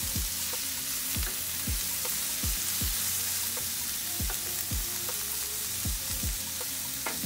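Ham and salami sauté in a skillet with a steady, close sizzle, while a spoon or spatula scrapes the pan in regular strokes about every half second. No one speaks.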